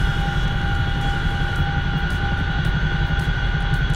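Steady, loud drone of CH-47F Chinook helicopter engines during a cold start in a video game, with a constant hum and whine and no speech.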